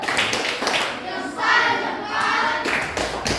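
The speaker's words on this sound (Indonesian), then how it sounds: "beri tepuk salut dulu untuk teman kita. Tepuk salut." A group of schoolchildren performs a patterned salute clap in a classroom lesson on traditional dance, the rhythmic claps and hand sounds filling the short moment close by with some voices mixed in.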